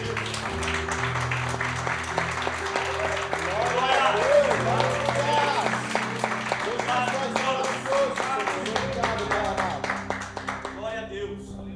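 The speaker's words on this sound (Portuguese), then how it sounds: "Vamos louvar o Senhor com as palmas por essa palavra, irmãos" A church congregation bursts into sustained applause for several seconds, dense and close, with voices and music mixed underneath before the clapping thins out at the end.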